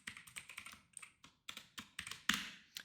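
Bursts of quick, crisp keystrokes on a computer keyboard come in clustered runs with short pauses while CSS code is typed, close and clear with no talking.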